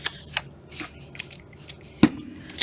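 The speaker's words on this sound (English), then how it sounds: "Lightly spritz and crumple it like trash." Crisp crinkling and rustling of wet, spritzed paper being scrunched for paper flowers, in scattered bursts with one sharper crackle, no voices.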